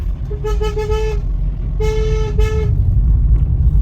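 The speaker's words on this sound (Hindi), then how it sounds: "हॉर्न का हमें यूज जरूर करना है गाइस।" A car horn on a hill road sounds two long, loud honks, the second a double blast, over a steady low engine rumble.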